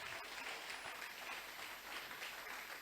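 Applause during a church service: a congregation claps steadily and continuously, a dense, faint, even patter of many hands with no voices on top.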